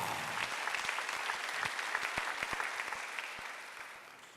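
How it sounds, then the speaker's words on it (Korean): A church congregation bursts into applause during a Sunday worship service, a dense, steady wash of many hands clapping close by that gradually thins and fades toward the end. "내 주변 사람이 다 평화로운 거 보시면 박수 한번 주세요."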